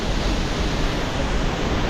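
Steady, dense rush of water at Devkund waterfall in Raigad, Maharashtra during the monsoon, a continuous broadband roar with no breaks or voices over it.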